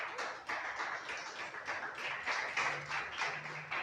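A church congregation stands and applauds in praise, steady rhythmic clapping from many hands that sounds somewhat distant and moderately quiet, with no speech over it.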